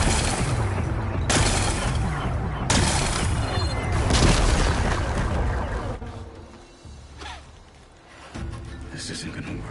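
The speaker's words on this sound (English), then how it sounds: "Gotta blast away some rocks, so I can expose the power cell." Rocks blasting apart in Horizon Forbidden West: Burning Shores gameplay, a series of loud, dense explosive bursts through the first six seconds, then quieter rumbling debris with a couple of sharper cracks near the end.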